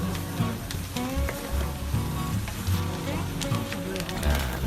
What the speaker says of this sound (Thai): เราก็เอา สามชั้นที่เราทำให้สุกแล้ว ลงมาผัดอีกรอบหนึ่ง